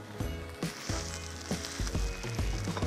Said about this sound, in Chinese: 你现在变成炒蚵仔蛋